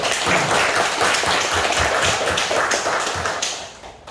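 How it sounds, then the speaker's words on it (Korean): A church congregation claps together in praise of God, a steady wash of many hands close by that holds level for several seconds before fading slightly at the end. "박수로 하나님께 영광을 돌리겠습니다"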